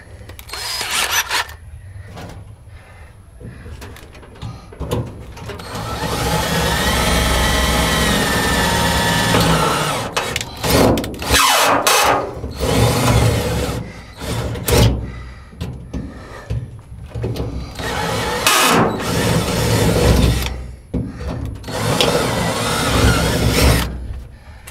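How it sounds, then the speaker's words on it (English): Power drill boring holes in metal for a pop-out window on a rotten 1956 VW Beetle, loud sustained whine broken into several bursts with pauses and handling noise between. "now we can drill our final holes."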